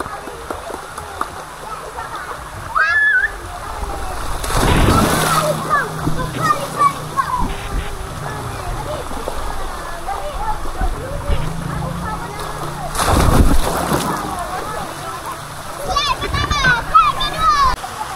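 Splashes in a hotel swimming pool at the foot of a water slide, two big watery crashes amid running water, with children and adults talking and shouting throughout.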